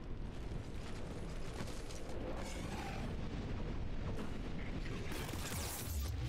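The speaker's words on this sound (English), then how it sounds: "Oh, that's why there were explosions." Heavy explosions in the Mass Effect 3 video game, a sustained dense roar of booms and blasts that stays loud throughout with no pauses.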